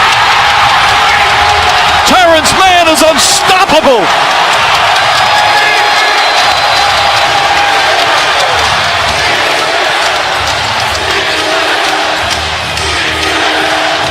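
Loud basketball arena crowd roaring and cheering during a Clippers vs. Jazz playoff game, a sustained wall of noise with excited commentary over it.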